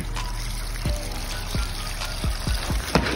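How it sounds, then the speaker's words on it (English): Water is poured and dumped while rinsing substrate for a Florida box turtle enclosure, a running trickle broken by several distinct splashing pours in quick succession, close by, with no talking. "I'm gonna keep doing it keep rinsing it, dump in the water,"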